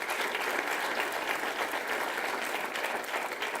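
Steady audience applause at a school district convocation honoring teachers of the year, a dense wash of many hands clapping continuously without letup, moderately loud and without talk.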